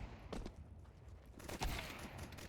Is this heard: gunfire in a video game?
yes